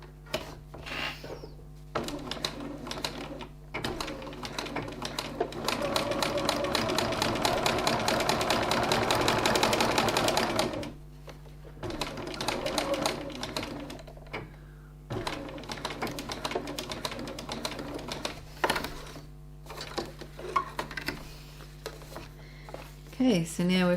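A sewing machine stitching fabric card pockets in short rattling runs, with one long burst of stitching and pauses between, while a person talks in between.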